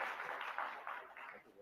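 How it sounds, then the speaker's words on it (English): Faint, short round of audience applause closing a session at the MMA Impact 2022 conference, a soft scattered patter of claps fading out within two seconds. "Round of applause, please."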